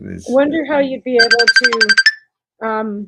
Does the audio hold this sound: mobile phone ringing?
yes